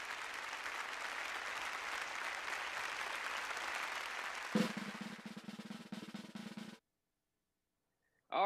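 Applause for a keynote speaker at a Latino Communications Institute alumni awards night: steady clapping from many hands for several seconds, thinning into scattered claps before falling silent.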